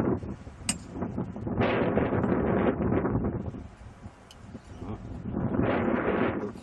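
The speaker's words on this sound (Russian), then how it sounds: "Тут все шумит, ветер." Gusting wind outdoors buffets the microphone in broad, rushing surges that rise and fall over several seconds, with faint rustling and a few small knocks mixed in.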